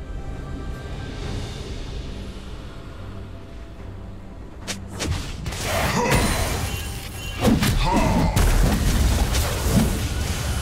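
League of Legends turret destruction in a top-lane match: a low boom and thud lands around the five-second mark, followed by crashing, smashing impacts and rumbling explosions that swell louder through the rest of the stretch.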